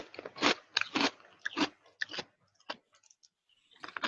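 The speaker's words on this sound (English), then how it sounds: "whoever's chewing the chips, can you stop that, please?" Someone chews crunchy chips near the microphone during an online trading webinar, a quick series of loud, sharp crunches in uneven bursts, growing sparser before a few more bites at the end.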